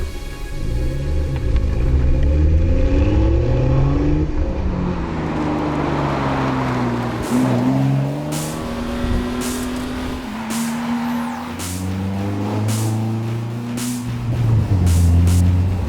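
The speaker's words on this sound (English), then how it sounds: "Behind the occupants beats the heart of the Roding. The 6-cylinder BMW engine is known from the" A Roding Roadster with a BMW 6-cylinder engine from the M135i driving on mountain pass roads, a loud continuous engine drone rising and falling through gear changes, with sharp pops and crackles on the overrun near the end.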